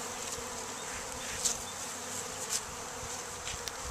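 A swarm of honey bees hums in a constant, dense buzz close to the listener, with a few individual bees darting past more loudly.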